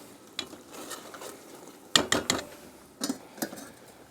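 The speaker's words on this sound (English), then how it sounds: "Okay, we added the pasta, gave it a stir, let it heat through." Pasta being stirred into a creamy mushroom stroganoff sauce in a pan, heard as intermittent scraping clatter and wet squelching strokes in small bursts over a faint simmer.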